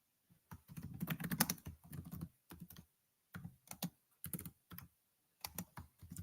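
Typing a search query on a computer keyboard, with quick bursts of keystrokes separated by short pauses, close and clear with no voices.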